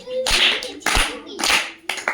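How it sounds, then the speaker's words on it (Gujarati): Children clap together during a classroom letter-counting game, with four sharp bursts of group clapping that are close and loud, separated by short pauses. "હું જે શબ્દ બોલું એ શબ્દમાં જેટલા મૂળાક્ષર આવે એટલી તમારે તાળી પાડવાની છે"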